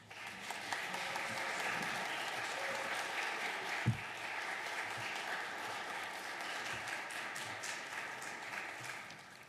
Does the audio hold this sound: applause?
yes